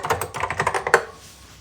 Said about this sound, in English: the Alps switches of the keyboard, when you can get one, is just something truly special